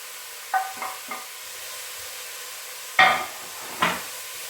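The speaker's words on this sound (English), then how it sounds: "I'm going to give that a really good stir" Already-cooked cauliflower stirred in a pan: a few soft scraping strokes and light clacks of a utensil, close by and sparse, separated by quiet gaps over a faint background hiss.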